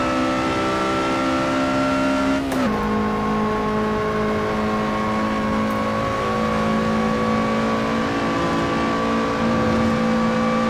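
A Lotus Exige 240R engine pulls hard uphill on the Nordschleife, a steady loud in-car drone with one brief gear-change dip before the revs climb again, no talking.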